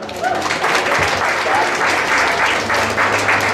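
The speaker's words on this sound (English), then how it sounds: "Please give her a round of applause." An audience at a vegan festival talk in Brisbane claps for a speaker, a dense, steady round of applause with a few voices mixed in beneath it.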